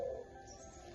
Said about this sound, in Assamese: শুনা পাইছে এইফালে চৰাই চিঞৰি আছে